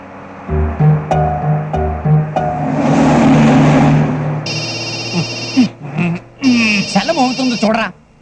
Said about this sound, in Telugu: సెల మోగుతుంది చూడరా.